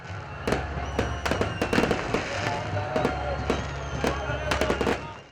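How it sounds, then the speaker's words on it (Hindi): Midnight New Year 2023 fireworks across Lahore: rapid sharp bangs and crackling bursts, some close and loud, others distant, popping irregularly over a low steady city rumble. "रात 12 बजते ही शहर के मुख्तलिफ मकामात पर शानदार आतिशबाजी के साथ साल 2023 को वेलकम कहा गया।"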